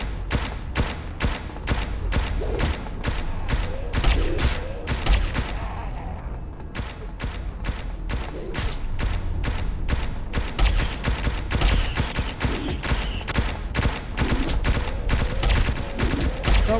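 Automatic turret guns in the video game Subterrain firing in rapid, evenly spaced bursts, loud and close, with a short pause around the middle before the shots resume, mechanical clanks underneath.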